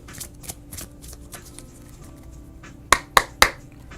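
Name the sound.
shuffling tarot cards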